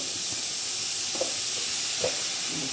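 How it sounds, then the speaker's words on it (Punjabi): Spice masala dry-roasting in a dry kadhai with no oil, giving a steady close sizzle and hiss with a few soft scraping stirs. "ਬਿਨਾ ਤੇਲ ਤੋਂ ਆਪਾਂ ਮਸਾਲਾ ਭੁੰਨਾਂਗੇ"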